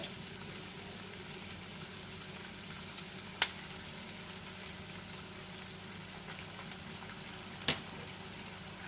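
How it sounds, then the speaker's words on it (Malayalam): Chicken Manchurian sizzles and bubbles steadily in a pan as a spoon of soy sauce goes in, a constant close hiss broken by a couple of sharp clicks, with no talk. "1 സ്പൂൺ സോയാ സോസ് ചേർത്ത് കൊടുക്കാം നമുക്കിതിലേക്ക്."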